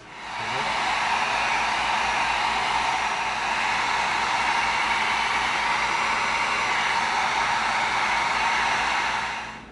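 A heat gun blows steadily up close while heat-sealing EVA foam, giving a loud, even whooshing hiss that holds for nearly ten seconds before cutting off, with no voices.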